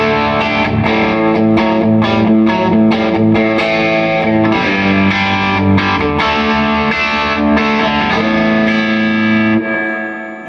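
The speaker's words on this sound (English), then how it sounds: "Once I hit the drive, that accentuates the reverb" Electric guitar through a boutique 1x12 combo tube amp with overdrive and reverb engaged. Dense, sustained distorted chords ring loud and close, with a reverb wash hanging under them before fading at the end. Nobody speaks.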